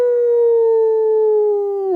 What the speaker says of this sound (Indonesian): suara auman serigala